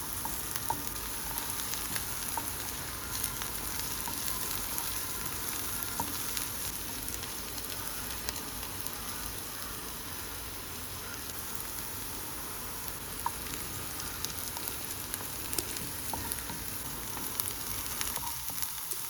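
Crushed ginger and garlic sautéing in a pan, a soft, steady frying hiss that runs unbroken for a long stretch with faint occasional crackles, close but quiet and with no voices.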